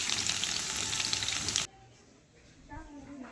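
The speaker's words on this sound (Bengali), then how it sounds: "এবার ওই তেলে আমি রসুন কুচি করে রাখা রসুনগুলো দিয়ে দিলাম" Chopped garlic hits hot oil with a loud, dense sizzle for about a second and a half, then cuts off abruptly, leaving quieter low clatter and faint sounds afterward.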